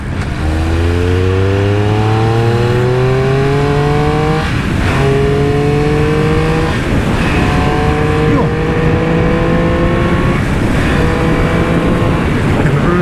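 A Triumph Speed Triple motorcycle engine revs loud and close, pitch sweeping upward through several rising pulls with brief dips between gear changes, continuous throughout with no talking.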